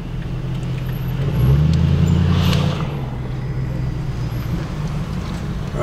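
Town road traffic passes close by, a steady roar of cars with a heavier vehicle swelling louder in the middle before easing back to a constant hum.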